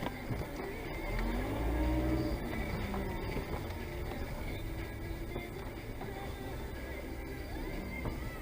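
A car leaves a church parking lot, its engine a steady low rumble with a slight rise early on, heard from a short distance amid outdoor background noise.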